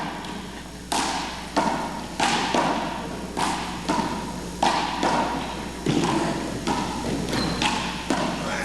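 Big-ball handball shots from the 1985 men's open singles final: a string of loud, sharp thuds as the ball strikes wall and floor, roughly one per second, echoing in the court.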